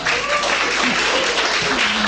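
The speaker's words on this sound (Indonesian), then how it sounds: "Tepuk tangan untuk Ustaz Abu Hilal." Audience applause at an Islamic book discussion, a short dense burst of clapping with murmuring voices mixed underneath.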